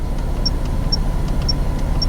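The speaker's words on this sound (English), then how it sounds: "this pretty much the beep is the sounds you're hearing right here" Short electronic beeps from an IIWEY DC03 front-and-rear 1080p dash cam as its menu is operated, four evenly spaced high tones about half a second apart over steady low car-cabin rumble.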